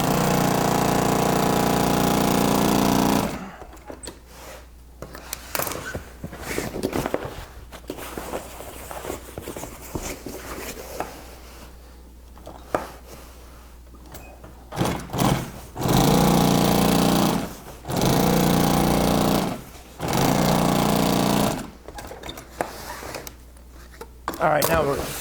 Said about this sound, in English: we're going to stitch this and fold it over and top stitch it just like you do